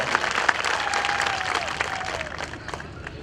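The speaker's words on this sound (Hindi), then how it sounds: "हम चाहेंगे एक बार जोरदार ताली बजा के आप लोग स्वागत करें माननीय नेताजी का" A crowd claps loudly and steadily to welcome a political leader onto the stage at a Rajbhar community rally, with a faint voice briefly audible beneath the dense applause.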